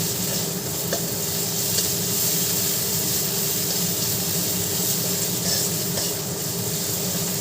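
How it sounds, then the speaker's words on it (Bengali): Ginger-garlic paste with Kashmiri chili powder fries steadily in a pan for a dish of potato curry, giving a continuous close sizzle with occasional faint scrapes of stirring and no talk. "মশলাটাকে কষিয়ে নিচ্ছি।"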